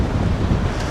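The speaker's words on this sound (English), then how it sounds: "it is extremely windy." Strong wind blows on a city street in Toronto's Yorkville area, a loud, continuous roaring buffet across the microphone with no other sounds standing out.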